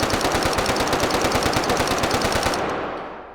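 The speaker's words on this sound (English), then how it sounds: "We have got a Sosig gun version of the M60 here, firing a smaller amount." An M60 machine gun fired by a Sosig enemy in the VR game H3VR, a loud rapid continuous burst of evenly spaced shots lasting about two and a half seconds, then a quick fade of the echo.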